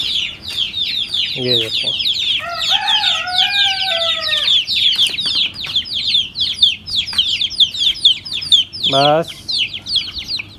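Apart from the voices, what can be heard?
chicks chirping noisily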